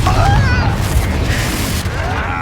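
A Confringo explosion spell in Hogwarts Legacy bursts loudly at the start, then a rumbling boom decays under ongoing combat noise for the rest of the clip.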